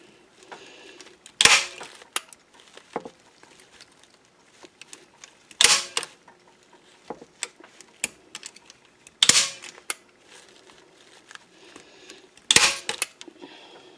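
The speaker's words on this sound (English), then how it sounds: "And the staple gun, here we go." A staple gun fires into artificial flowers on a roadside cross in four loud, sharp snaps spaced a few seconds apart, with faint handling clicks in between.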